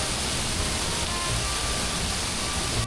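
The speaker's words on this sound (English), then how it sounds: "This is one of the 4 waterfalls at Istrafelta and the easiest one to stand under without decking it." A waterfall at Istrafelta pours down onto someone standing directly beneath it, a loud, steady, broadband roar of falling water that stays constant throughout without pause.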